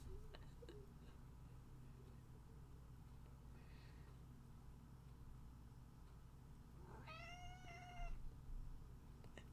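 A house cat lets out a single loud, drawn-out meow near the end, after a quiet room with faint background hum and a softer earlier mew.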